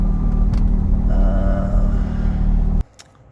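A close Range Rover engine rumbles steadily, then the sound cuts off abruptly, leaving near silence.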